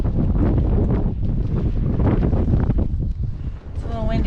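Gusty wind buffets the microphone at a free campsite near Salt Lake City as a storm approaches, a steady loud rushing roar with a short lull near the end.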